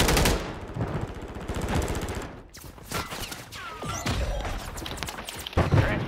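Rapid automatic gunfire and bursts of shots in Call of Duty MW3 multiplayer, dense and continuous with thuds and impacts, loud throughout with brief lulls.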